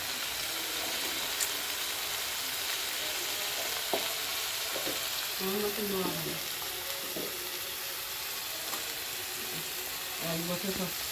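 Fried rice sizzles and is stirred in a pan, a steady frying hiss with scraping stirs, while a voice talks intermittently over it.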